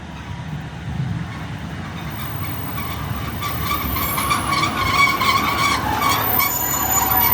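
Northern passenger train passing a level crossing on a rural line, a steady rumble building as it nears, with wheel clatter and a thin metallic squeal rising over the second half.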